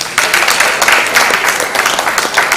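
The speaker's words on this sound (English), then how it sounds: "I'd like us to really give the board a round of applause." Audience applause honouring a board at a gathering: dense, steady clapping from a crowd that fills the whole short stretch after a brief quiet start.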